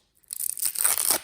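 A Pokémon GO card booster pack being torn open by hand, one continuous crinkly foil rip lasting about a second, loud and close.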